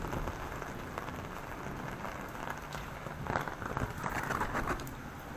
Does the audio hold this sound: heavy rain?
yes